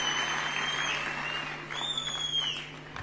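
Warm applause for Sunil Tatkare at the Nationalist Congress Party's foundation day celebration, a sustained crowd clapping that swells again midway, with whistle-like tones and a steady hum behind it.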